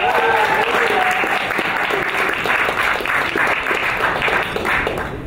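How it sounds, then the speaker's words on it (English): An audience at a hackathon closing ceremony breaks into loud, sustained applause, a dense wash of clapping that holds steady throughout, with a few crowd voices mixed in. "Let's give them all a round of applause for working hard to bring their projects to life."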